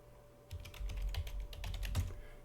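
Computer keyboard typing as a password is entered during a Linux install setup, a quick run of close, fairly loud keystrokes with no talking.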